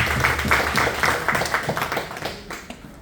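An audience claps together in a fairly even rhythm, moderately loud and close, the claps thinning and fading out toward the end.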